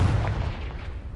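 A Confringo spell explosion in Hogwarts Legacy lands as a loud, near, booming burst with a rumbling tail that fades over about a second.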